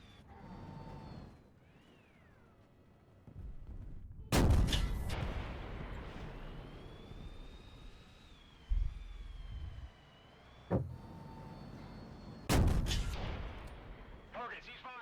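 Tank cannon fire in the War Thunder video game, with the M1A1 mentioned, two heavy booming blasts with long rumbling tails plus smaller impact thumps, set against engine hum and siren-like whines.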